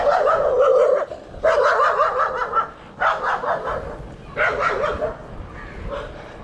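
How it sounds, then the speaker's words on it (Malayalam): A dog on a hillside road barks in four or five drawn-out, yowling bursts, loud and close, with short pauses between them. "എല്ലാ ദിവസവും എന്നെ വിഷ് ചെയ്യുന്ന പട്ടി"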